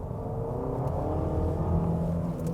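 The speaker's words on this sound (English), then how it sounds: "the petrol engine kicks in" Great Wall Motors WEY 03 PHEV SUV with its petrol engine accelerating, a steady loud engine drone building slightly, alone with no talk.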